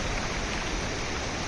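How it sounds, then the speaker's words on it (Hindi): Mountain stream water rushes near Sajla waterfall, a constant, dense, full-bodied roar with no breaks, close and steady throughout. "आप आवाज़ सुन सकते होंगे पानी की।"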